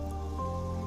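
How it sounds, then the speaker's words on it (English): A single drip of water lands after a coarse cloth is wiped over stone, with a ringing, resonant tone that sustains close by through the short moment. "Sound of a coarse cloth being wiped over stone, a ringing sound, a drip."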